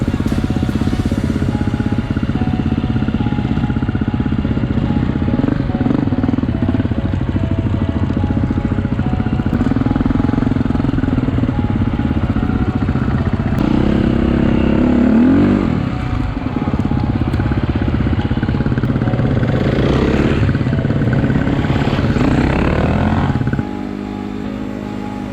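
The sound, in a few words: dirt bike engines riding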